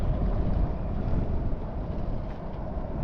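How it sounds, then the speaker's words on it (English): A strong headwind buffets the microphone of a cyclist riding across the Australian Outback, a continuous low rumbling roar that stays heavy and unbroken throughout. "Have another headwind today, as you probably can tell."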